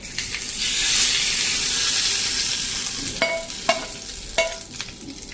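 Hot tempering oil with curry leaves is poured into a South Indian chutney and gives a loud, steady sizzle and hiss that slowly fades, followed by a few light metallic clinks of a utensil.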